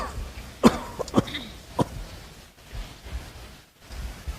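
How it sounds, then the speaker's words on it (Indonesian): Coughing from a person in a church congregation during a sermon, a few short harsh bursts near the start, then quieter rustling room noise. "Sudah mulai batuk aja."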